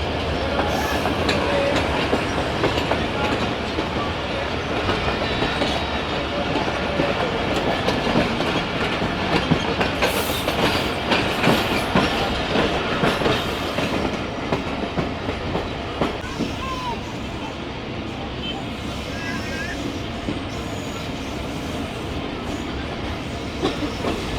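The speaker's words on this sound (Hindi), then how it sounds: "दूसरी लूप लाइन से मेन लाइन पर जा रही है" Railcar train crossing from a loop line onto the main line, a loud, continuous rumble with clickety-clack over the rails and rattling carriages throughout, heard from on board.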